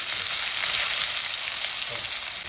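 Steady, dense sizzling of onions frying in hot oil, continuous and fairly loud throughout with no voices.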